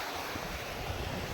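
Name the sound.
incoming sea tide waves at Mahuva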